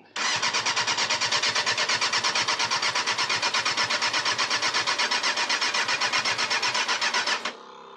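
A Yamaha Thundercat motorcycle engine cranks on its starter in a steady, rapid whirring rhythm for about seven seconds without catching as the battery runs down, loud and close, then stops abruptly.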